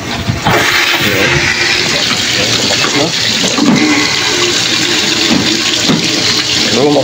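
Water rushing hard out of a water heater drain during flushing, a loud continuous gushing spray with gurgling surges throughout, with voices talking over it.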